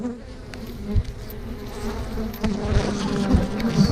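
Honey bees from a hive frame that has just been dropped fill the air with a dense, steady buzz, close and continuous, with a few louder thumps and swells as the swarm stirs.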